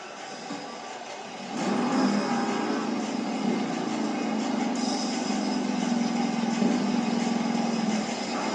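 Toro Loco monster truck engine at a Monster Jam arena show in Greensboro, North Carolina: a loud sustained roar that swells after a moment and holds at full, steady volume.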